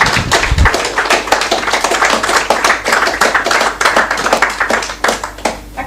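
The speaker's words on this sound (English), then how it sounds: "Hizi claps" A conference audience at a national shelters gathering claps loudly and close by, sharp individual hand claps packed into a fast, uneven rhythm that runs throughout, with no talk over it.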